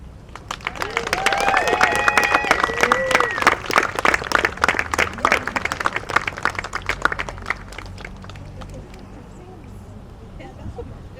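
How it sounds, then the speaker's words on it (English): Crowd at an outdoor Pride flag raising claps and cheers, swelling quickly then thinning out toward the end, with a few voices and whistles mixed in. "Let us cheer."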